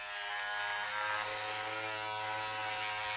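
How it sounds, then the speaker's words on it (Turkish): An electric hair clipper buzzes steadily close by during a home haircut, a continuous humming drone with slight changes in strain as it cuts hair, with no talking. "Saç, sakal bu makineyle her şeyi kesebilirsiniz."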